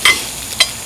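Potatoes frying in a pan at a campsite, a steady close sizzle with two brief louder bursts of stirring or spattering.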